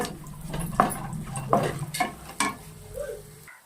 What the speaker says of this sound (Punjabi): ਇਹ ਡਰਾਈ ਫਰੂਟਾਂ ਨੂੰ ਵੀ ਆਪਾਂ ਭੁੰਨਾਂਗੇ ਤਕਰੀਬਨ 2 ਤੋਂ 3 ਮਿੰਟ